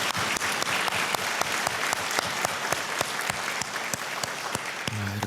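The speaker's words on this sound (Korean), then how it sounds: "우리 감사의 박수 한번 하겠습니다." During a Sunday worship service, a church congregation gives thanks with loud, continuous applause, with sharp individual claps standing out through the rush, fading just before the end.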